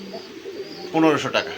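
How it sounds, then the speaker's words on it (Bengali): A Mookie pigeon gives a soft, short coo near the end, close by, following a voice talking. "বন্ধুরা এখানে একজন মক্কি কবুতর আছে"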